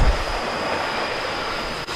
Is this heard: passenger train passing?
yes